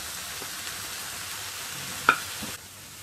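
Chopped tomato pieces frying in a pan for a coriander tomato chutney, a steady low sizzle close by, with a brief sharp clink of a utensil partway through before the hiss drops quieter.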